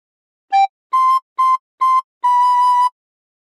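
Five clear recorder notes play a short phrase of We Wish You A Merry Christmas: a brief lower note, then three short even notes at one pitch, and a longer held note, alone in silence.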